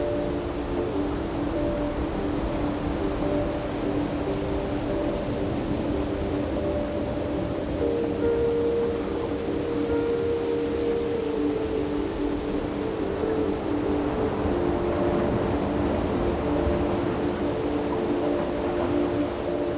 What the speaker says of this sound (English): it started raining like crazy